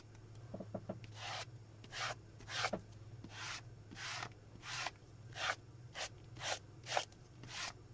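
Scraping leftover teal paint off a mixed media journal page, heard as about a dozen short rhythmic rasping strokes at close range, quiet against a low steady hum.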